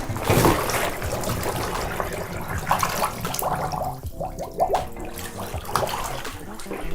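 Scuba gear is soaked and rinsed in a tub of water, with close sloshing, splashing and dribbling water and gurgling swirls throughout.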